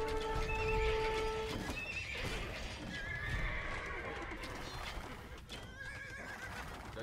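Winged hussar cavalry horses in Age of Empires II: Dawn of the Dukes neigh in a sharp whinny, followed by rapid clip-clopping hooves amid busy battle effects.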